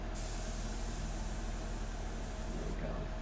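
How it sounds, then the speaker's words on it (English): Steady airbrush hiss of air blown over an India ink portrait, continuous and close for about three seconds before cutting off near the end. "And let's just spray some air on that."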